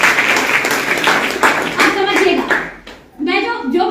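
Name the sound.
audience clapping at a training event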